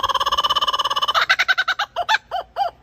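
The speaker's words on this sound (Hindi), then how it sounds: "दूसरे नंबर पर आता है लाफिंग कुकाबुरा।" A laughing kookaburra calls loud and close, opening with a rapid chuckling run of notes that breaks into slower, rising and falling cackling hoots.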